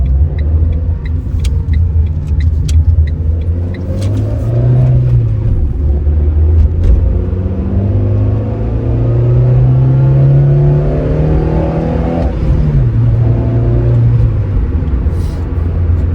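A Renault Twingo 2 with a 75-horsepower engine accelerates from standstill to 80 km/h, its engine note rising steadily through several gear changes, loud and close inside the cabin with no talk.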